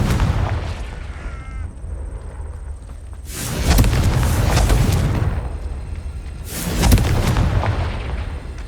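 Two heavy, booming explosions from the Confringo fire spell in Hogwarts Legacy, each a loud blast with a long rumbling tail, a few seconds apart over quieter game ambience.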